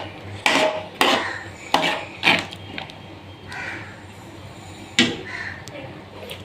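Plum chutney being stirred in a metal pot, a series of sharp spoon clinks and scrapes in irregular rhythm, close and fairly loud, with a faint voice in the background.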